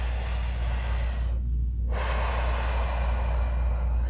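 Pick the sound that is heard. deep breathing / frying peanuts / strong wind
deep breathing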